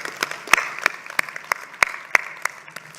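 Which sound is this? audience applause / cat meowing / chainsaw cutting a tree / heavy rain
audience applause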